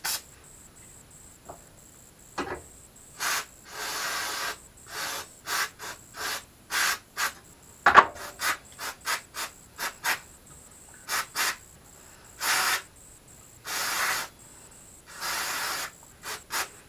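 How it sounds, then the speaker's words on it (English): Brake cleaner sprayed around a brake caliper on a Lakota 300 during a brake check, heard as a long series of short, sharp hissing bursts with quiet gaps between them, some brief and some held longer, close and fairly loud. "brake cleaner will probably remove a lot of that dirt and residue and leaves and stuff"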